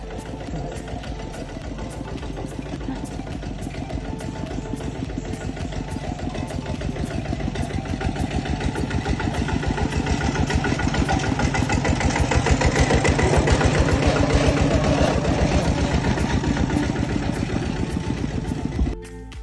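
A motorcycle engine runs steadily nearby on a camping trip, a loud, even, rapid throbbing that swells slightly in the middle and holds on with no voices over it.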